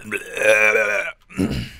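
A loud, drawn-out burp after eating garlic knots, roughly a second of croaking tone followed by a short pause and a second rougher burst, close to the mic with no talk over it.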